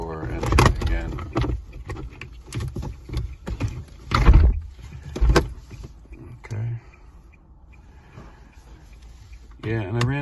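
Several sharp thuds and clunks of a 2020-2022 Nissan Sentra driver's door opening and shutting during key programming, interleaved with mechanical clicks and a brief whir, followed by a quieter stretch.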